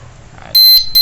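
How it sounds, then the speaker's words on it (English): A motorcycle alarm disc lock sounds its test alarm as it closes: a loud, shrill electronic beep cuts in suddenly, breaks briefly, then sounds again, very close. "if I close it, it tests its alarm, one beep"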